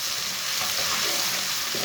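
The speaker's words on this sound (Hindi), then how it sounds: "लहसुन को भी 1 मिनट तक भून लेंगे।" Finely crushed garlic fries with browned onions in a hot pan, giving a loud, steady sizzle with light stirring noises and no voices.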